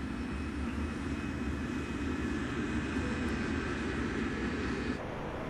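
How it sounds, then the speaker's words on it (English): Airplane cabin interior ambience in Grand Theft Auto V: a constant, even jet engine drone that hums throughout with no voices. "Inside of an aeroplane."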